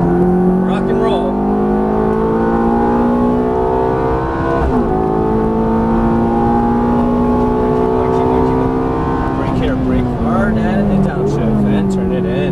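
Ferrari F430 V8 engine pulling hard on a race track, close and loud, its pitch climbing through the gears with audible shifts around the middle and near the end, while an instructor talks over it.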